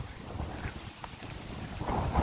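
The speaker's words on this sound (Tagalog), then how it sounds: "Ang lakas ng hangin!" Strong typhoon wind gusts roar and buffet the microphone in uneven bursts, swelling louder toward the end, with no voices heard.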